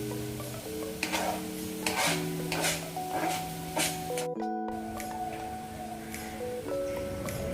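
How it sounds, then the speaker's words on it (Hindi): Bathua greens tossed into a pan of fried garlic and stirred, with a soft sizzle under repeated scraping strokes of a spoon against the metal pan, close and fairly quiet. "मेरी लहसुन भून चुकी है, तो अब मैं साग को डाल देती हूँ।"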